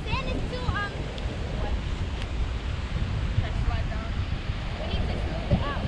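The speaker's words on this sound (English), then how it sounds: "Surf." Ocean surf washes onto a beach at Gomoa Fetteh in a continuous rushing roar mixed with wind buffeting the microphone, with faint voices now and then underneath.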